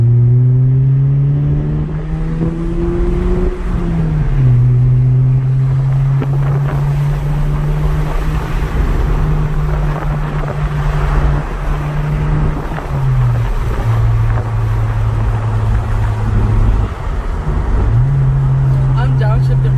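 A 2019 Honda Civic Sport with its muffler deleted drones loudly as it drives, its engine note rising and dropping through revs and downshifts, with wind noise and people talking over it.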